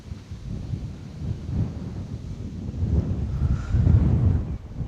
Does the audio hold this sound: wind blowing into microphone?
yes